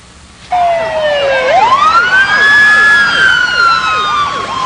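A regional ambulance service medic unit's siren bursts on loudly and sweeps up into a long wail, then cycles through fast repeating yelps, close and dominant over faint background noise.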